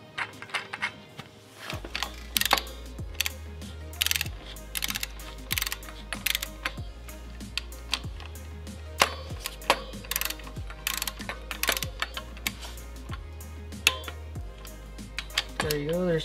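A torque wrench ratchets in quick, repeated bursts of sharp clicks on the front brake bolts of a Yamaha XT250 motorcycle, close and crisp, with brief pauses between strokes.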